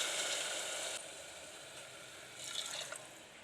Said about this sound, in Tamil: இதில் 2 கிளாஸ் தண்ணி நம்ம சேர்த்துக்கலாம்.